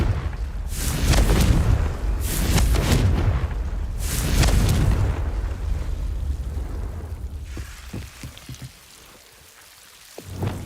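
A Confringo explosion spell in Hogwarts Legacy sets off a series of heavy booming blasts with crackling, rain-like debris, three big surges in succession, then a quieter stretch with scattered pops and a final thud.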